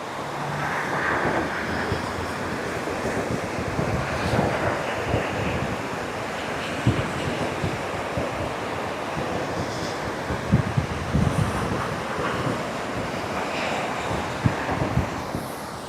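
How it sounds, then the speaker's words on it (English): Blustery coastal wind roars steadily across a microphone at a beach during a tall ships parade of sail, with surf washing beneath and occasional louder gusts buffeting throughout. "It's quite breezy here just now."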